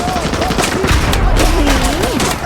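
Gunfire in the video game Call of Duty Modern Warfare 2 Remastered comes as dense, rapid bursts and clattering shots, loud and continuous, with a player talking over it.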